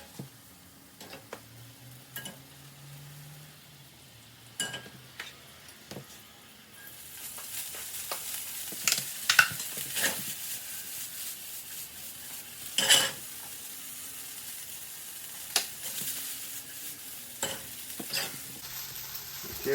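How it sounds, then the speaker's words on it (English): Rice sautés with butter, lemon and salt in a pan, giving a faint sizzle that grows steadier halfway through, with occasional close clicks and scrapes of a spoon stirring, and no voices. "then we're going to saute our rice with a little bit of butter and lemon and some salt"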